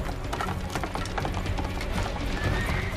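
Horse hooves clip-clop in quick, even rhythm in a video game, loud and close, and a horse neighs and whinnies over the hoofbeats, with game music or effects faint underneath.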